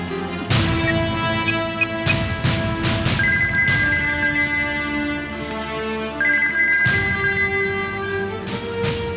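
A telephone ringtone plays a repeating electronic melody, loud and close, in a Bengali TV serial domestic scene, with brief pauses between bursts and no talking over it.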